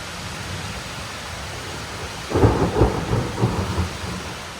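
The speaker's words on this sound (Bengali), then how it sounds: "আজকে আবার বৃষ্টি আরম্ভ হয়ে গেছে।" Rain begins with a low rumble of thunder, several rolling booms over a steady wash of rainfall, heard from a distance and with no voices.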